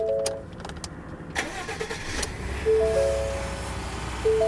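A car engine cranks with a few quick bursts, catches, and settles into a steady idle nearby.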